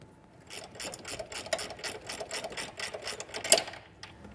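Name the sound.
nut being tightened on trailer wiring ground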